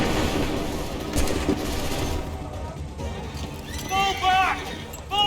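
Musket volley fire in Assassin's Creed 3 in the thick of a loud battle, with shouted orders, horses and clattering chaos layered over the shots.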